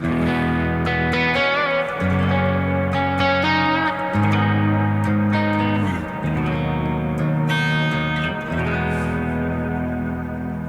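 Sustained electric guitar chords and ringing notes, with delay and reverb from a Nano Cortex, wash together with echoing repeats and a long reverb tail, steady and fairly loud throughout with no voices.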